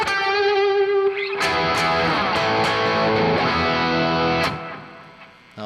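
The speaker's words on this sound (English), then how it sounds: "Now the reverb is a little high." Electric guitar run through a send-return loop with fairly heavy reverb and delay, sustained chords and notes ringing out with a long echoing tail that fades away at the end, played alone.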